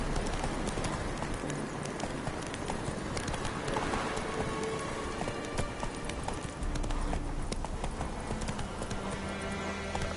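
A horse gallops in The Witcher 3: Wild Hunt, its hooves striking in a quick, continuous clip-clop rhythm over a rain-like hiss, loud and close throughout.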